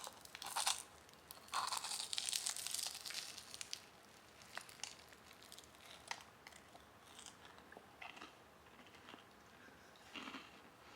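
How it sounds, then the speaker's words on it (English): Crunchy bites and chewing into a croissant stuffed with cookie dough, eaten at a resort café: loud crackly crunches in the first few seconds, then softer sporadic chewing and crinkles close to the mic, with no talking. "I really hope the camera is catching all that crunch."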